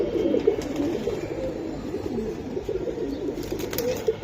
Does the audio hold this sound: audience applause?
no